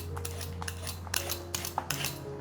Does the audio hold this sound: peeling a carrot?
yes